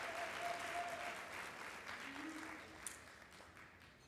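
Audience applause at a senior banquet, a steady wash of clapping from a seated crowd that holds for several seconds and slowly thins toward the end, with faint voices underneath.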